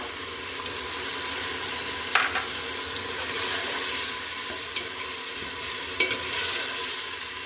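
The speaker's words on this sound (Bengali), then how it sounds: "এই পর্যায়ে আমি কাঁচামরিচ বাটা অ্যাড করে দিচ্ছি" Green chilli paste sizzles in a hot pan with a loud, even frying hiss, and a few sharp scrapes and taps of a stirring utensil come through near the middle and end.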